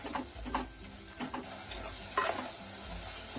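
Sardine curry masala sautéing in a pan: a soft sizzle broken by several scraping stirs at irregular intervals, fairly quiet and close, with no talk.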